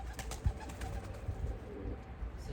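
Pigeons coo softly and repeatedly, close by, with a low throaty rhythm and no one speaking, as pet birds are let loose outdoors.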